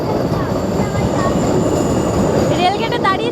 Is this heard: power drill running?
no